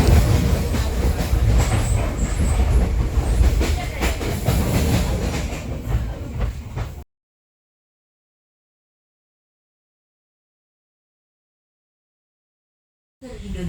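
Inside a train carriage heading to Surabaya Kota station in Indonesia, a loud rumbling ride with rail clatter and wheel noise runs for about seven seconds, then cuts to silence.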